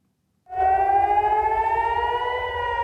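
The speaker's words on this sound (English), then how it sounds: "Warning sirens echo across Israel overnight as Iranian missiles target and sometimes hit neighborhoods" A civil defense warning siren wails across Israel during an Iranian missile attack, rising in and sustaining a loud, steady harmonic tone with a slow upward pitch drift, heard alone.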